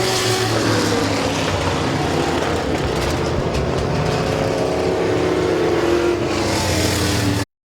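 Race car number 99 running a hot lap at Midvale Speedway, a loud continuous engine roar with shifting pitch as it circles the oval, heard at close to medium range with no voices over it.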